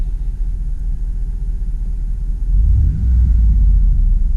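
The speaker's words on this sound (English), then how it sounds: "This is idle after all the driving." A 2004 Dodge Dakota LST Club Cab truck with about 117k miles idles after a drive, a steady low engine rumble close by that swells slightly louder partway through, with no talking.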